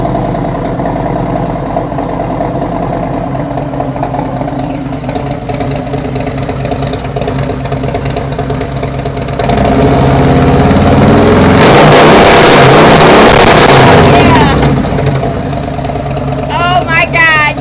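Motorcycle fitted with a Tab Performance 50 Cal Zombie Baffles slip-on exhaust, idling loudly and then revving hard in a rising, sustained burst near the end, with a person's voice heard over the engine.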